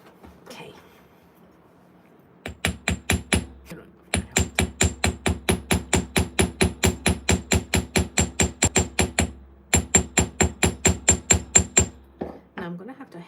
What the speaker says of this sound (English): Now I'm gonna have to hammer the whole entire thing.